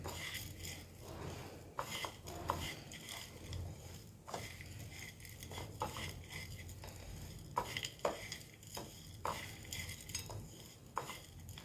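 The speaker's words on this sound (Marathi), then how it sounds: "खोबरं गूळ काजूचे बारीक तुकडे करून घ्या हां आणि वेलदोडे पावडर सगळं मिक्स करून घेऊया" Grated coconut, jaggery, small cashew pieces and cardamom powder mixed together in a bowl, a faint continuous rustle and soft stirring with light clinks of a spoon, quiet and close.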